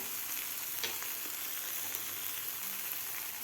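Onion-garlic masala sautéed in a pan for a sprouted moth bean curry, a low steady sizzle with occasional spoon taps and scrapes, close but quiet, no voices.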